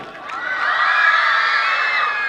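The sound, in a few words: children clapping and cheering wow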